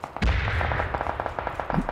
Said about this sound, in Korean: 총소리는 엠포만 잘 들리는데